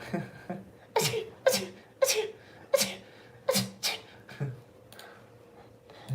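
A person lets out a rapid series of about eight short, sharp sneeze-like bursts at an uneven rhythm, close and fairly loud against a quiet background.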